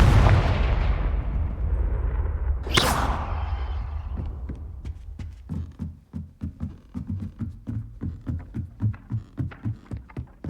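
Confringo blast spell cast in Hogwarts Legacy: a heavy, booming blast opens, followed by a sharp crack, then a run of rhythmic low thuds pulsing steadily as the rumble fades.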